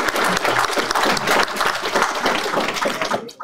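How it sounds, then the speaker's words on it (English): Audience at a graduation ceremony applauds steadily, a dense sustained wash of many hands clapping that fades toward the end. "one more round of applause for keeping this going."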